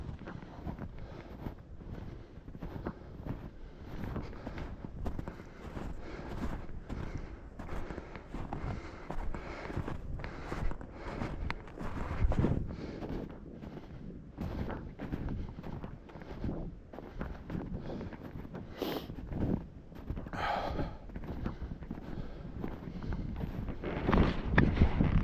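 Wind buffets a microphone during a walk in the woods, a constant low rumbling roar with irregular gusty surges lasting throughout, and faint footsteps and handling noises underneath.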